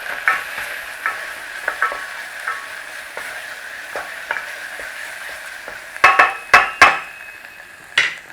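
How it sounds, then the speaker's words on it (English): A spoon stirs a tomato dipping sauce seasoned with dried basil, black pepper and salt in a pan. Light, irregular scraping taps sit over a soft sizzle, then a quick cluster of louder clacks near the end. "We're just going to give that a stir."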